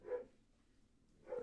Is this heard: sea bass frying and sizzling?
no